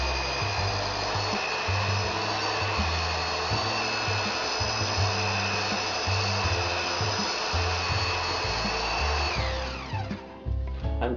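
A power mixer churns tile adhesive powder with water for laying thin porcelain tiles, giving a steady, loud whirring drone with a constant high whine that runs throughout, then winds down and slows near the end.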